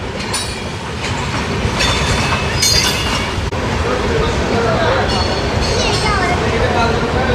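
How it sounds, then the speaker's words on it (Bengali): Himgiri Express, the Howrah to Jammu Tawi train, runs through Bardhaman Junction without stopping, with a loud, steady rumble and clatter of wheels on rails and some high screeches, heard from on board. "ট্রেন আমাদের পার করছে বর্ধমান"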